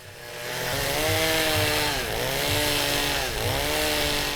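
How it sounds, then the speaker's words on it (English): A chainsaw roars continuously up close, its engine note dipping twice under load as it cuts into ice to carve a round bowl, then recovering. "He used his chainsaw to carve out the center of the bowl"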